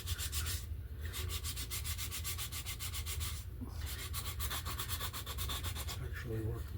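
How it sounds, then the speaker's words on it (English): Hand sanding with sheetrock sandpaper, a rhythmic rasping scrub repeating in quick even strokes, with a couple of short pauses, close and fairly loud. "I'm going to just sand this down."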